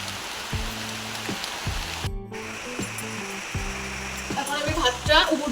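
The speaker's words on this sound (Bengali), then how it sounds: "ভালো জোরেই পড়ছে বৃষ্টিটা" Heavy rain falls steadily outside a home during a Rakhi festival day, a constant dense hiss running throughout, with music playing over it and a brief sharp noise burst midway.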